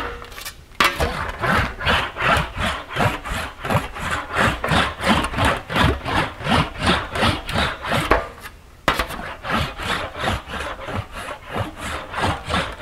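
Sheet metal rolled back and forth through an English wheel while shaping a large reverse-curve panel: a steady rhythm of rasping strokes, with a brief pause partway through and another run of strokes after it.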